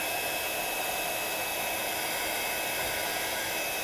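A craft heat tool dries sparkle ink on a project, giving a steady, close blower-like whoosh that runs unbroken throughout, with no talking.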